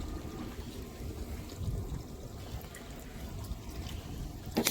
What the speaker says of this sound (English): I've got a submersible bilge pump in the testing tank.